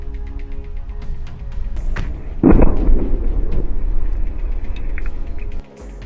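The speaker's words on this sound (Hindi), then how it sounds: "हमास के लड़ाकों ने इसी बिल्डिंग को बारूद से उड़ा दिया" A building blown up with explosives in western Jabalia, Gaza, a loud booming blast that rolls into a rumbling roar of collapse under steady background noise before cutting off.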